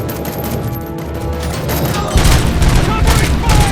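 Dense gunfire during a bank robbery in the RoboCop: Rogue City video game, sustained loud automatic bursts and booms that grow heavier midway, continuous and close, with shouted voices mixed in.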